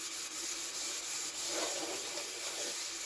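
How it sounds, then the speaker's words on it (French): A damp sponge scrubs limescale from the inside of a pet's water bowl, a steady close rubbing and scraping that continues without pause and without talk. "On mouille son éponge. Et on vient nettoyer. Et on gratte. On gratte partout."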